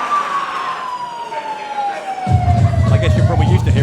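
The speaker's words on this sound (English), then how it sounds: "I guess you're probably used to hearing sirens." A siren wails with a long falling tone, loud and fairly close, joined by a rumbling engine and crowd-like noise toward the end, at a professional wrestling event.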